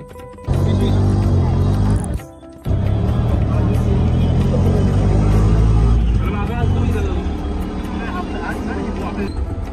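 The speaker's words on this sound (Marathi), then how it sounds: "आता आपण या रिक्षामध्ये आहोत" Auto rickshaw engine droning steadily while riding through town traffic on the way to the Ambarnath temple, loud and close, with a short drop partway and road noise throughout.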